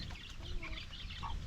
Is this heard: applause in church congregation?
no